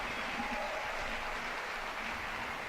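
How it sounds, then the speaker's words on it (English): Steady applause from a crowd after a horse-and-rider round at a show jumping competition, dense clapping at an even level for the whole stretch, heard from a distance with no clear voices. "it was a very nice round of applause"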